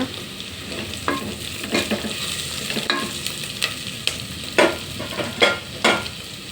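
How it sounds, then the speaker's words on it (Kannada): Onions frying in hot oil in a home kitchen, a continuous soft sizzle broken by repeated scraping strokes of a spatula stirring the pan, close and clear with no voices. "ಚೆನ್ನಾಗಿ ಎಣ್ಣೆಯಲ್ಲಿ ಫ್ರೈ ಆಗಲಿ."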